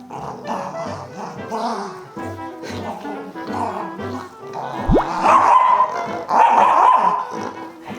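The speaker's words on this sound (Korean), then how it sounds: "다른 강아지 보고 이렇게 너무 짖어서 흥분해서" A former stray dog barks excitedly at another dog, sharp repeated barks and yips mixed with people talking over them, loudest toward the end.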